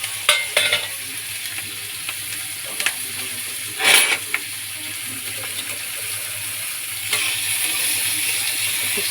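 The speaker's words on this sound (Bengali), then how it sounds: "একটু সিমে পেঁয়াজটাকে ভাজতে হবে লাল করে বাটারের মধ্যে" Onion frying in melted butter in a pan, a soft continuous sizzle broken by a few sharp stirring clacks and one louder scrape, with the hiss swelling near the end; no speech.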